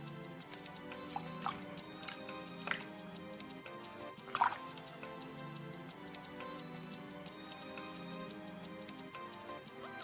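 Water dripping while purslane leaves are washed for a salad: faint, scattered drips and small ticks over a quiet background, one slightly louder drop midway, no talk.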